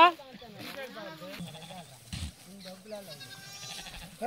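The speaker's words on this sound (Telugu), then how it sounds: "మేక కొనడానికి మేకల మంద దగ్గరికి వచ్చేసాం" Goats bleating at a goat herd where animals are picked out for mutton, several overlapping wavering calls close by throughout, mixed with people talking nearby.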